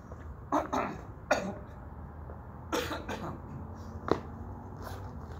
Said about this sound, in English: Don't worry about the cough, it's just allergies.